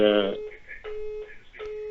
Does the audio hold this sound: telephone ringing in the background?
yes